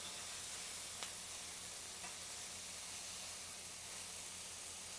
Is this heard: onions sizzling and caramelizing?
yes